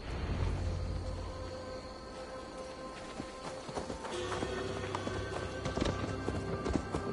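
Horse hooves clip-clopping at a steady gallop in Assassin's Creed Valhalla, riding through an untamed Gloucestershire forest, with continuous game ambience and occasional sharper knocks over the rhythmic footfalls.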